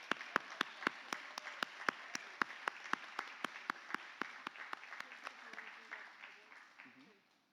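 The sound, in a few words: audience applauding award recipient at conference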